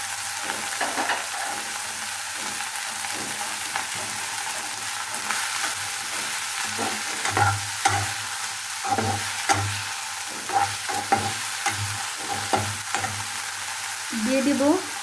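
Green and red chillies fry in a pan, a steady bright sizzle with repeated scraping and knocking of a spoon stirring them, close and continuous throughout.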